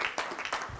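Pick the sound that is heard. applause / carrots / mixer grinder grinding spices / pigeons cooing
applause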